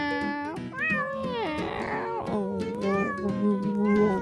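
A cat meows in a run of drawn-out, sliding calls that rise and fall, loud and close, with no other sound competing.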